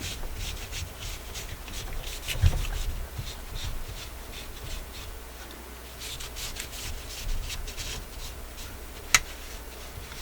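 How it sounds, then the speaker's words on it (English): A cloth rubs and wipes across the surface of a Garrard RC121 turntable to mop up excess cleaner, making a steady, soft, close scrubbing sound with a couple of faint clicks. "Try to mop up the excess."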